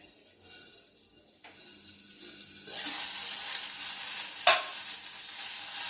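Green chillies fry in a pan for a cucumber chutney, starting quiet and then rising into a loud, steady sizzle with a couple of sharp spits and pops.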